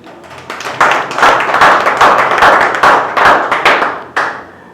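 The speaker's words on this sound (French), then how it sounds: "Vous pouvez applaudir." Close, loud applause from a small group, clapping swelling quickly and then tapering off, with a few final claps near the end.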